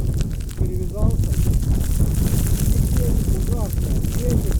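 Strong wind gusts across a frozen lake in a snowstorm during winter perch ice fishing. It makes a loud, continuous rumbling buffet against the microphone, and a voice is heard faintly at moments.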